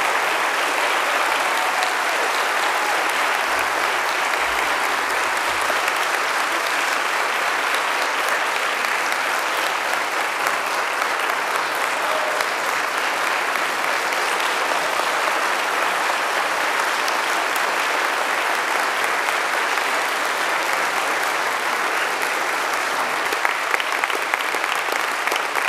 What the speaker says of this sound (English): How about one more round of applause for our 8 semifinalists as y'all stand up.